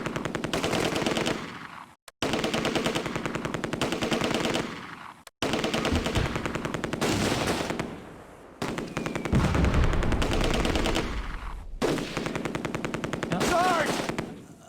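Machine guns rattle in Close Combat: A Bridge Too Far, the World War II strategy game, in long, loud, rapid bursts. A few short gaps break the firing, and muffled explosions sound partway through.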